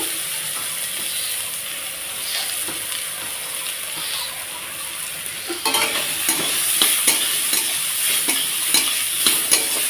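Garlic fries in a pan with a steady sizzle before taro paste goes in; partway through, the sound turns louder and busier, with scraping and stirring clatters over the ongoing frying, close by and with no talk.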